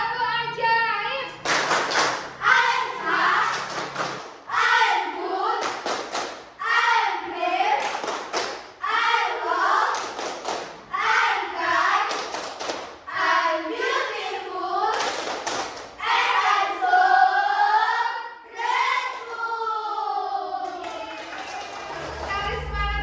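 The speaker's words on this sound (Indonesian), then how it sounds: "Oke, biar tambah semangat lagi, kita tepuk ajaib dulu ya." Classroom of schoolchildren performing a rhythmic chant-and-clap routine with their teacher, bursts of sharp group claps alternating with loud sung chanting in a steady beat.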